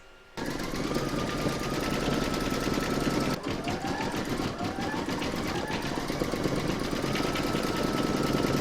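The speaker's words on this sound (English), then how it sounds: "You're now going to stitch round number 5, and that's going to do the paws and the claws" An embroidery machine stitches paws and claws on an in-the-hoop dog poop bag dispenser pouch, with a steady rapid mechanical whirr and needle chatter close by that keeps going without a break after a short quiet start.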